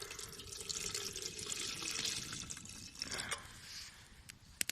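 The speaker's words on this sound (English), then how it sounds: "I'm going to add some water into the pot here." Water poured from a container into a cooking pot beside a campfire outdoors, a continuous faint trickling and splashing that tapers off with a few drips at the end, close by with no talking.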